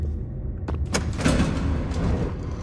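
A heavy door slides open in the horror game Five Nights at Freddy's Eternal Nights, a rumbling mechanical thud and scrape over low ambient drone, close and fairly loud.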